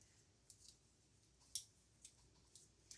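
Small snips of cutters clipping jewelry wire for purse charm earrings, several faint sharp clicks spaced irregularly in a quiet room.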